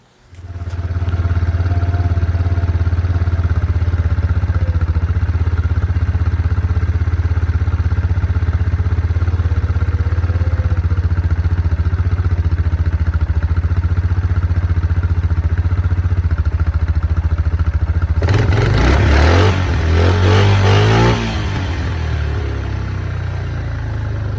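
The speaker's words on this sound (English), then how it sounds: "it's going to be idled a little on the high side because we don't have the air cleaner in it yet" A 2003 Yamaha Kodiak 400 ATV, just fitted with a new genuine Mikuni carburetor and running without its air cleaner, idles fast and steady right up close, with a clattery, harsher surge of revs near the end.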